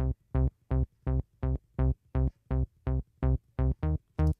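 A progressive house synth repeats short, evenly spaced notes, about a dozen in a steady rhythm, each with a bright attack whose tone quickly closes down as the filter envelope sweeps the cutoff.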